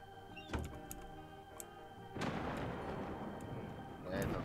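Video game airstrike explosions in Rules of Survival: one sharp blast early and heavier rumbling bursts later, with a dense crackling roar between them.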